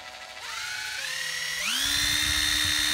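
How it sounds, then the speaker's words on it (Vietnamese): Hitachi 12V cordless drill driver spinning with no load, its whine steady and climbing in pitch in two steps as the motor speeds up, loud and close with no talk. "Đây là con máy khoan bắn vít Hitachi 12V"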